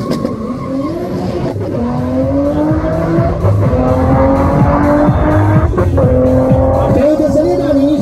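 A brutally built race car roars past at full power at the SlovakiaRing PowerFest hillclimb, engine note rising and shifting through gears with tire squeal, loud and close throughout with no speech.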